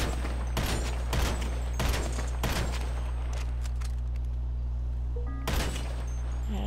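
Gunfire at a car wheel in GTA 5, several sharp loud shots in quick succession, a pause, then one more shot over a steady low background hum.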